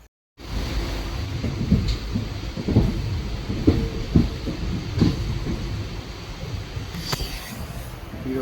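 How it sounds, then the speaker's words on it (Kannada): Steady rumble inside a passenger train riding out of Mangaluru Central toward Puttur before dawn, with irregular clanks and rattles over continuous wheel and carriage noise, no talking. "ಫೈನಲಿ ನಾವು ಈಗ ಟ್ರೈನ್ ಒಳಗೆ ಬಂದು ಕೂತ್ಕೊಂಡಿದ್ದೇವೆ"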